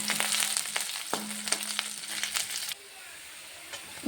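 Garlic and onion frying in oil for a churma made from leftover chapatis, a close crackling sizzle with stirring scrapes that cuts off abruptly to a quieter low hiss.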